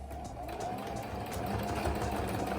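A sewing machine runs a steady straight stitch through pinstripe fabric for a tuxedo-style robe duster blazer, giving an even, continuous motor hum from start to finish, close and moderately loud with no talking.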